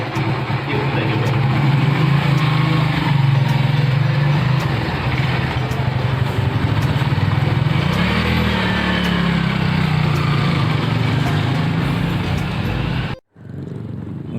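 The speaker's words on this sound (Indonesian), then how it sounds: "sambil kita melakukan test drive pada motor ini" A Kawasaki W175 retro classic motorcycle runs on a test ride, its engine giving a steady low drone with a slight rise and fall in pitch, close and continuous until it cuts off abruptly near the end.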